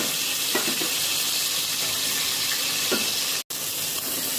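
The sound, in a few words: fish frying in hot oil in a kadai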